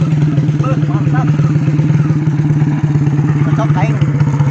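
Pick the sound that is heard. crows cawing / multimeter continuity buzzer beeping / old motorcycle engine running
old motorcycle engine running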